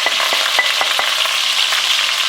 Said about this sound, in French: J'ai fait revenir 1 minute supplémentaire avec les oignons et les carottes.